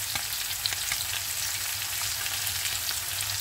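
Food frying in a pan with spices being added makes a loud, continuous sizzle with light crackles, close up and steady, with no voices.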